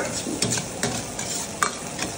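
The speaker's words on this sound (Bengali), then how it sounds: "ভাজা হচ্ছে।" Onion and capsicum sizzle and fry in a pan for fried rice while a utensil stirs and scrapes, with a few sharper clinks over the steady hiss.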